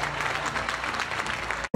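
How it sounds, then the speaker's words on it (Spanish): A burst of steady crowd applause at a teachers' day award ceremony, dense clapping from many hands at moderate distance, cutting off abruptly at the end. "recibieron un aplauso cerrado de los presentes."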